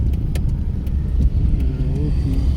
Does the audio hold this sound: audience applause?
no